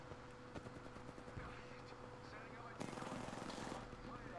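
Rapid automatic gunfire from an Xbox shooter game, bursts of machine-gun shots crackling over continuous battle noise, with a louder flurry of fire partway through.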